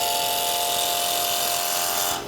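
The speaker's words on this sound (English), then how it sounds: "we want to use a bowl gouge to make our cut. So I'm going to start here and just nibble away at the wood" A bowl gouge nibbles at a wooden drink cover spinning on a lathe, producing a continuous, loud, close hiss of cutting with a steady hum underneath, easing off at the very end.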